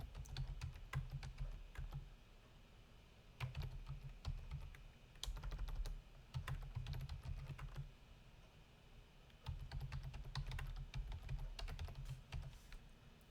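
A computer keyboard is typed on steadily while a Java code comment is written, with clusters of quick close keystrokes and short pauses over a low background hum. No one speaks.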